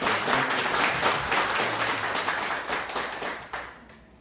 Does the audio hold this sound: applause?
yes